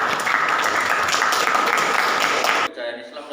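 A classroom audience claps during a student-teacher lesson, a dense, steady burst of many hands that cuts off abruptly near the end, with faint voices underneath.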